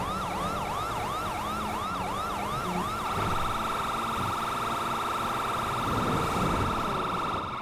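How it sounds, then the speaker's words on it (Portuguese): A police car siren in GTA V FiveM roleplay wails in rapid rising-and-falling sweeps, then shifts to a steady sustained tone partway through, loud and close with low engine rumble beneath. "você pode desligar a sirene, tá, ô Major?"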